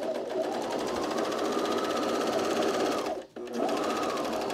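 A sewing machine stitches the side seams and inseams of a pair of pants, running steadily and loud for about three seconds, pausing briefly, then starting up again.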